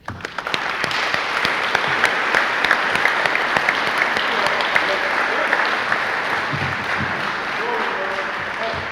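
Audience at a high school Air Force JROTC awards ceremony applauding new Kitty Hawk Air Society members, a dense, continuous wash of clapping from a large crowd that holds steady throughout.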